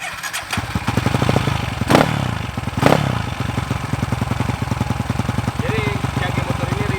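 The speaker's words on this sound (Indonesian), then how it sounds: "Jadi jage motor ini ribut karena dia sudah menggunakan jage kase" Kawasaki KLX motorcycle fitted with a 63 mm bore-up kit, titanium valves and YZ magnet kit, idling noisily up close with a rapid, steady rattling clatter and two brief revs of the throttle.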